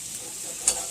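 Ham and cheese omelet sizzling in a hot pan as it is flipped, a steady close frying hiss with one short sharp scrape or tap near the end.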